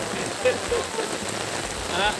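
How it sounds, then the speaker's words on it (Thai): Steady rain falling outdoors at night during a fishing trip, a dense continuous patter with a few brighter drops standing out, fairly close and unbroken throughout. "ดูครับฝนตกครับตอนนี้"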